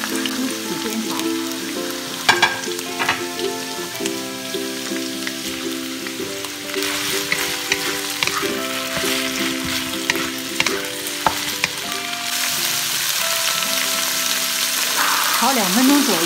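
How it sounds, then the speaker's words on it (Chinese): Celery and bean curd sticks stir-fried in a wok with shredded ginger give off a steady, close sizzle, broken by scraping and clattering strokes of the spatula throughout. "再倒入芹菜和腐竹，一起煸炒"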